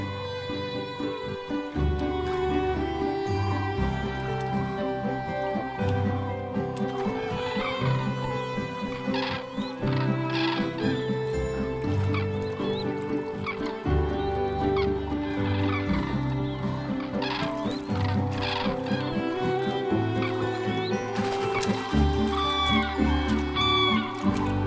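Cranes trumpeting loudly through their noisy courtship and mating display on the Mecklenburg Lake Plateau in Germany, a dense, continuous chorus of harsh rolling calls from many birds, some near and some farther off, with no talk.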